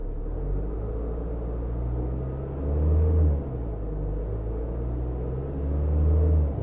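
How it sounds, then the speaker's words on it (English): A van engine rumbling low and steady, swelling twice into short revs before settling back to idle. "So then you can rev the engine."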